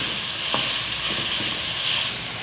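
Carrots frying in masala in a hot pan, giving a continuous close sizzle with a few light stirring scrapes and no voices.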